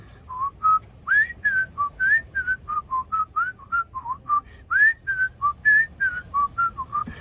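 A person whistling a theme, a bright, bouncy melody of short, clear notes in a steady rhythm, close and alone with no other sounds, at a music festival.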